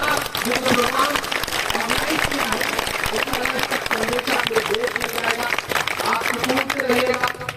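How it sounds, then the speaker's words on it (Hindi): Live audience applause at a Hindi-Urdu poetry gathering, a dense continuous wash of clapping filling the hall at steady loudness, with a voice carrying over it. "एक बार उनके एहतराम में इस बात के लिए ताली बजाएं"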